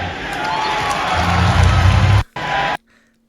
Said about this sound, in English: Luka Doncic shooting free throws and loud thank you Nico chants from the Lakers crowd